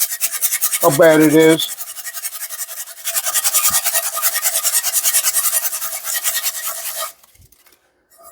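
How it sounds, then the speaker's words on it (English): Sandpaper rubbing a small test spot on a rough Lodge cast iron pan, a steady close rasping scrub that runs for several seconds, then stops, after a brief spoken remark near the start. "I won't bore you with the sanding process here. Just hit a little test spot here"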